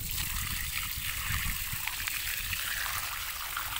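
Water gushing forcefully from a newly restored village spring tap, a steady close rushing hiss with constant splashing and gurgle and no breaks, heard alone without voices.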